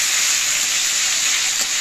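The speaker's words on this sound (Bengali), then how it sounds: "দেখুন, টমেটোটাকে আমি ভেজে নিচ্ছি।" Tomatoes sizzle steadily in hot oil with a little salt, cooking for a vegetarian potato and pointed gourd curry; a continuous close, loud frying hiss with no speech.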